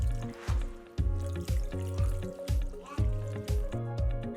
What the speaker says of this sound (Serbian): Nalijte vodom.